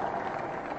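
A crowd applauds a sculptor at a statue inauguration ceremony, a brief, dense burst of many hands clapping together at a steady level.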